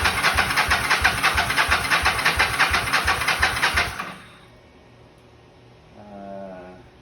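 Engine of a 1983 Yamaha Vision XZ550RK motorcycle cranks and catches, running in a loud, rapid pulsing rhythm for about four seconds before cutting out, followed by near silence and a faint brief rattle.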